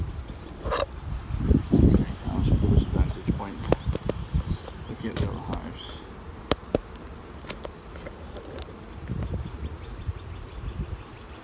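Honeybees buzz intermittently around small beehives on a hot day, close droning passes mixed with rustling and handling noises, loudest early on, then quieter outdoor ambience.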